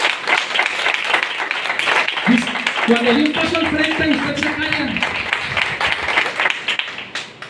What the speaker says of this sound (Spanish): No pare de aplaudir